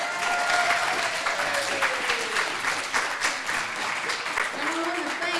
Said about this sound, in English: Can I hear a round of applause for him?